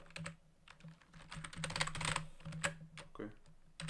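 Rapid, uneven keystrokes clack on a computer keyboard during a coding session, close and fairly loud, with a faint voice in the background.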